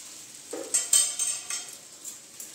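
Turmeric, chili and cumin powder being stirred into a pan with salt, metal utensil clinks and scrapes coming in a few short irregular bursts, close and fairly quiet, with no talk.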